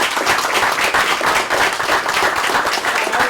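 People attending a city commission meeting give a short, dense round of applause for youth baseball parents, with steady overlapping claps from a medium-sized room.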